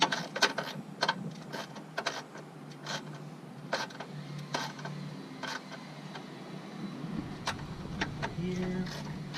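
A ratchet tightens bolts on a Pontiac GTP, its quick clicking strokes coming in rapid repeated bursts up close, with faint mechanical rattle in the background.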